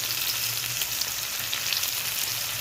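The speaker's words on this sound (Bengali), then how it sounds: "পেঁয়াজটা একটু লাল লাল করে ভেজে নিলাম" Chopped onion sizzles in mustard oil with cumin seeds in a pan, a steady, close crackling fry that fills the whole stretch with no talk over it.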